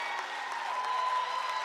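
A looped recording of crowd applause rides steadily under a gospel music production, a continuous wash of clapping blended with sustained musical tones at a moderate, even level.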